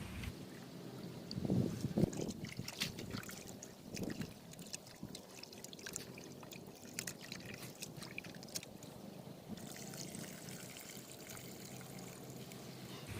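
Water sloshes and trickles as raw prawns are swirled and rinsed in a bowl, with soft splashes early on and quieter dribbling afterward.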